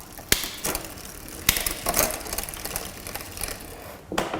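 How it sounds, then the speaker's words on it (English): Gears shifting through all speeds on a 27.5-inch Royce Union RMT 21-speed mountain bike, with close, loud ratcheting clicks from the drivetrain and several sharp snaps as the chain moves across the cogs. "you want to run through all the gears and just make sure they're smooth."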